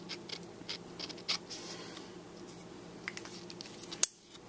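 Scissors cutting paper for a card, a series of soft, close snips and rustles, ending with one sharp click.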